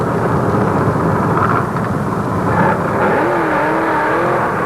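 Pro Stock drag racing cars at the 1975 IHRA Nationals, a loud continuous engine roar with shifting revving tones, steady and close, with no talk.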